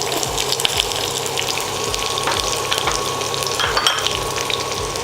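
A medium onion sliced lengthwise fries with ginger in a pan for vegetable macaroni, crackling in a loud, steady near sizzle with small pops and bubbling and no speech.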